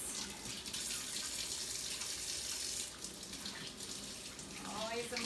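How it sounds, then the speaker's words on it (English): Fingers rinsed under a running kitchen tap while making cupcakes, a steady close hiss of flowing water with shifting splashes as the hands move through the stream, fairly quiet overall. "this time I'm gonna give my fingers a little rinse"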